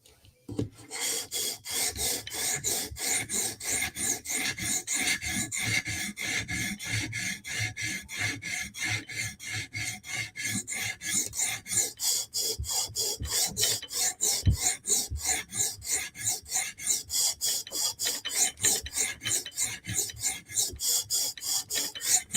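A knife blade, Spyderco Para 3 or Benchmade 940 with S30V steel, drawn across a stone on a TSProf Kadet guided sharpener, making rapid, regular rasping strokes, close and continuous with no talk.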